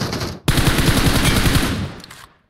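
Automatic rifle spraying in a shooting video game, a rapid dense burst of shots lasting under two seconds after a brief pause, loud and close.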